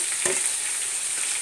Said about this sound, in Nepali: त्यसले चाहिँ तेलमा राम्रोसँग फ्राई हुन्छ